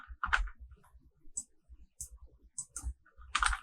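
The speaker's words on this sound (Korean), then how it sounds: "타이핑 해주시고" Light typing on a computer keyboard while filling in a chart title in a Korean word processor: scattered soft key taps and a few sharper clicks, close and quiet, with no talking.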